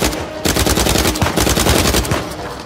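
Rapid pistol gunfire from enemies in the Uncharted 4 video game, loud bursts of close shots in quick succession with brief gaps, dense and continuous over the clip.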